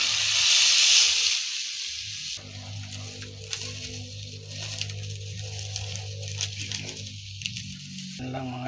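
A glass of water poured into a hot pan of toasted ingredients: a loud burst of hissing steam at first, then a lower, steady bubbling simmer with faint pattering, close by.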